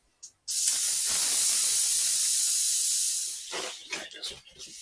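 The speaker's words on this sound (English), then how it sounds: "let's let the air out and take the tube out." Air rushes out of a bicycle tyre's valve as it is deflated to remove the inner tube, a loud, close, steady hiss that lasts about three seconds and then tapers off into a few soft handling noises.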